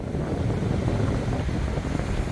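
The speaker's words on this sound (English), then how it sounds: "the wind is whipping" Strong wind whips across a beach with waves breaking nearby, buffeting the microphone in a loud, constant low roar that never lets up, with no voices over it.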